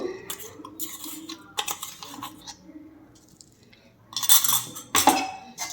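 A spoon stirs spiced masala through puffed-rice mamra chevdo in a metal pan or bowl, bursts of scraping and clinking separated by quiet pauses, with no talking.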